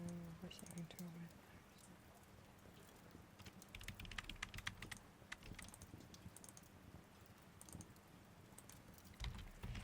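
Quiet, irregular clicking of a computer keyboard comes in soft bursts throughout, close and faint, with a low murmur of speech underneath at times.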